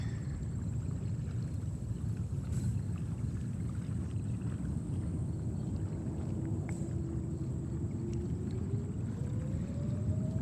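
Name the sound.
Etihad Dreamliner jet taking off at JFK Airport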